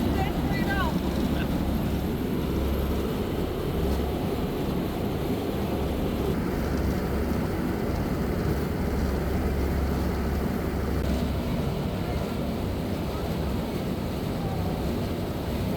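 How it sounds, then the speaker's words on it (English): Steady motor drone of an amphibious boat moving across a lake, with constant wind rumble and splashing wash, loud and unbroken throughout. "I just disengaged the wheels for our submarine boat afloat for the first time here today."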